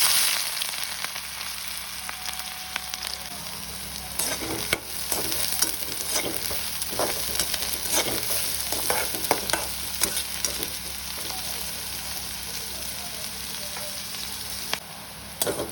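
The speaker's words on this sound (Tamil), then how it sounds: "எண்ணெய் காய்ச்சிட்டு இப்போ நான் இதுக்கு வெட்டி வச்சுருக்கிற வெங்காயத்தை போட்டுக்கொள்கிறேன்" Chopped onions fry in hot oil for potato bonda, a steady close sizzle running throughout with scattered sharp crackles and occasional scraping stirs.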